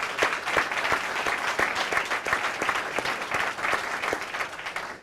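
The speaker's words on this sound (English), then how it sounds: "Give Mary a round of applause" A seated audience at a bus-agency staff recognition event claps steadily for several seconds, a dense even wash of many hands at a constant moderate volume, without voices.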